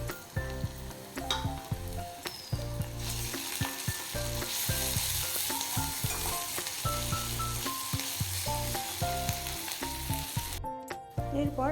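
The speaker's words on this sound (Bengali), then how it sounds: "পেঁয়াজগুলো আমার প্রায় ব্রাউন হয়ে ভাজা হয়ে গেছে" Browned onions fry with ginger, garlic and green chili paste for khichuri, making a loud, continuous sizzle near the mic. Irregular clattering stirs of a spatula against the pan run throughout, with no speech.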